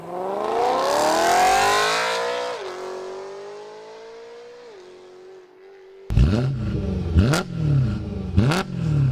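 A BMW M3 with a V8 and manual gearbox revs hard, rising through a long climbing pull before settling to idle, then snapping through several sharp, loud throttle blips, close and alone.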